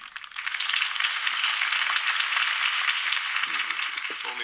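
Crowd applause after a political campaign speech in the Batman Telltale video game, a dense, steady wash of clapping that holds evenly from start to finish without voices.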